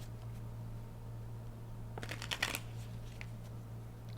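A short burst of card shuffling, a quick riffle of crisp snaps, close up over a low steady hum, with quiet before and after.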